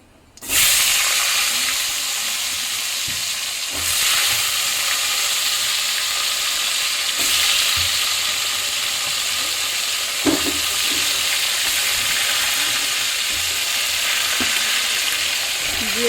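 Potatoes and eggplant fry steadily in fish oil with tempering spices in a pan, giving a loud, continuous sizzle and hiss. A few faint knocks and stirring clicks sit under it, with no talking.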